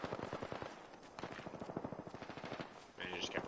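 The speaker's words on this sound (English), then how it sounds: "They're shooting at me." Rapid automatic gunfire bursts in the video game Apex Legends, a dense rattling string of shots that pauses briefly around the one-second mark and then resumes, moderately loud in the game mix.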